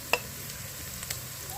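Ginger garlic paste goes into onions frying in a pan, with a sharp spoon clink at the start and then a steady, close sizzle.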